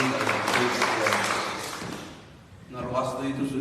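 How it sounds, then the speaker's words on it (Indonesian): A church congregation at a worship service claps together, a dense steady round of applause that fades briefly before voices and music return. "Beri tepuk tangan dulu yang meriah buat Tuhan kita."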